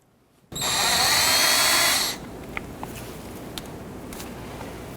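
A power tool whirs loudly for about a second and a half while removing a 13mm brake caliper bolt on a 1993–1997 Ford Ranger, then stops, leaving faint clicks and clinks of metal in a quiet garage.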